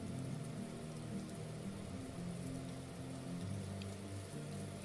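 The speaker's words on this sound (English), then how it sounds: "It's still raining." Rain ambience during a tabletop role-playing session set on the top deck of a ship, a steady soft wash of rainfall with a low hum beneath, faint and continuous, with no talk.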